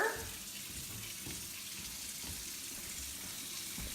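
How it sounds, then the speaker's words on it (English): Tap water runs steadily into a kitchen sink fitted with a garbage disposal, a soft continuous hiss and splash heard at close range without talking. "The water's there. running into the sink."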